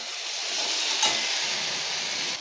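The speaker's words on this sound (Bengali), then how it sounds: "আলুগুলি দিয়ে আবার কিছুক্ষণ ভেজে নেব" Potatoes frying in spice masala for a Bengali cheoya fish curry give a steady, close sizzle with a faint stir partway through, no voices.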